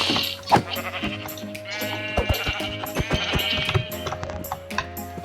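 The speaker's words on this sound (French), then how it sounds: "Donc, je vais buter ce petit mouton." Sheep in the video game Minecraft bleat repeatedly over a steady layer of background game music, several short distinct calls spread through the span, fairly close and clear.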